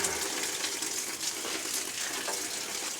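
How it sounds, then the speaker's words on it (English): Water rushes through household plumbing while a copper drain stack is being replaced, a steady moderate gushing hiss with slight surges, continuous and unaccompanied by voices. "Somebody's running more water."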